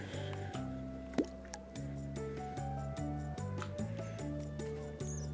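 Water trickling into a pot in the VR cooking game Rags to Dishes, soft dripping and liquid ticks over a steady background music loop, quiet and close.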